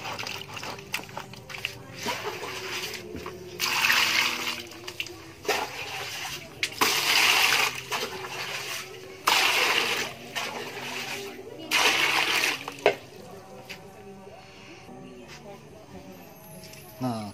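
Red ginger is washed and scrubbed in water, giving repeated splashing and rubbing bursts with trickling between them while a person keeps talking throughout.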